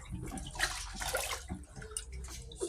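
Soaked maize for pap being washed in water, with sloshing, splashing and trickling as the grain is stirred by hand, close and irregular with no talk.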